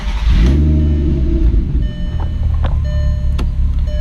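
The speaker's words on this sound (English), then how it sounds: "fire up the car" A car with a check engine light cranks and starts: a loud, low engine rumble rises at once and settles into a steady idle, with a few short electronic beeps chiming over it.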